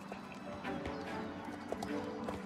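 A horse trots in the video game Star Stable, its hooves making a steady clip-clop rhythm at moderate volume, with faint background sounds mixed in.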